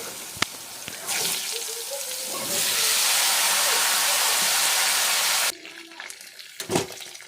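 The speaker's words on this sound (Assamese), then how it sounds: "কাটি ৰখা আলু পটলখিনিও মই ভাজি ল'ম।" Loud, steady sizzling of potato and pointed gourd pieces frying in hot oil fills a few seconds, rising sharply, then cutting off, with a voice briefly heard before and after.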